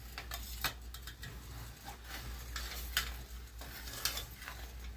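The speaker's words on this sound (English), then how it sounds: "that just immediately got to boiling, and we're going to kind of scrape up our good stuff off the bottom" Quiet bubbling and sizzling of sauce piquant boiling in a pot mix with irregular scraping and clinks of a utensil against the metal bottom, close by with no talking.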